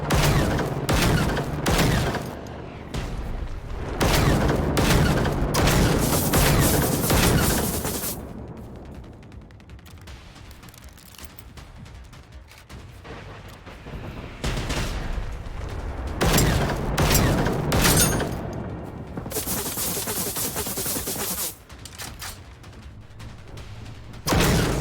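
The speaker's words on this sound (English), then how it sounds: "Really does like that mortar." Mortar fire in the survival shooter Generation Zero: repeated loud booming bursts with dense crackling rounds in clusters, broken by quieter stretches of lower rumble, with no talking.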